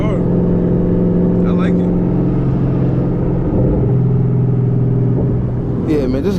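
Twin-turbo Boss 302 Mustang engine droning steadily while driving, a low continuous rumble with slight rises in revs, heard from inside the car under a man's brief speech.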